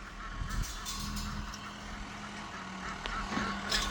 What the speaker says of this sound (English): So these ducks might see the open gate and make a run for it.